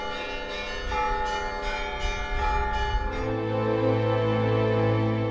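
Church bells ring out in celebration through a capital's streets, with several bells clanging together in a dense, sustained peal before a deeper bell hums on alone, loud with no voices.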